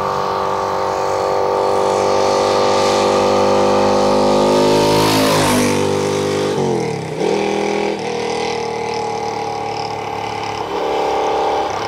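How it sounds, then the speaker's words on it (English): A 1975 Moto Morini 3 1/2 Sport motorcycle with its 35-horsepower four-stroke engine revs hard and rises in pitch, then drops and blips several more times, loud and close throughout. "It's a 35 horsepower engine that, although it's a four stroke, actually revs a little bit more like a two stroke"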